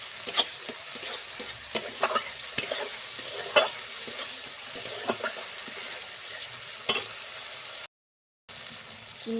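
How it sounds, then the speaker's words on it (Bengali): Mustard and cumin spice paste for Bata fish curry sizzles in hot oil as a spatula stirs it, with steady close frying and scraping clicks, then a short dead gap near the end. "মশলাটা একটু ভেজে নেব।"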